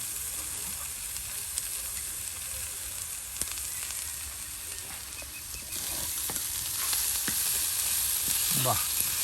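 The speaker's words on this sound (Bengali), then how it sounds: "ভেজে নেওয়া হলো টাকি মাছ ভর্তা করার জন্য" Taki fish fries in oil for a village-style bharta, a continuous close sizzle and crackle that grows slightly louder toward the end, with a few small clicks and no talk.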